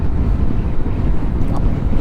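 Wind buffeting a rider at about 90 km/h on an Aprilia SR GT 200 scooter fitted with a touring windscreen, a steady, loud low roar with constant gusty rumble and no speech.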